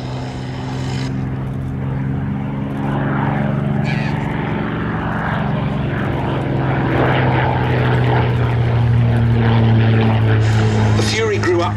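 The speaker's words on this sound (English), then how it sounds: "RAF biplane fighter, the second in the line of frontline Hawker biplanes after the Hart light bomber" Hawker Fury biplane fighter in No. 43 Squadron markings flying at the D-Day 80th anniversary air display at Duxford, its steady loud propeller engine drone holding throughout and swelling slightly toward the end.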